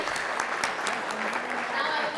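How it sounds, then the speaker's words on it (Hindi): An award ceremony audience claps steadily, a dense, even wash of applause close by with a few sharper individual claps standing out. "एक बार जोरदार तालियां."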